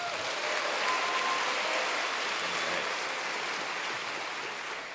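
A large group applauds orientation leaders at a 2016 university event, with steady, dense clapping that fills the whole stretch at close range and tapers slightly toward the end.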